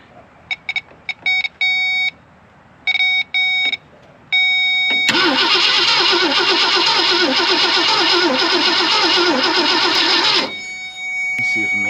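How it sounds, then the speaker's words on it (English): A rusty 1965 Ford Thunderbird being tested to see whether it will run: a few short warning beeps, then about five seconds of loud, steady, pulsing engine cranking that cuts off abruptly without starting. "Let's see if maybe I can get it to crank."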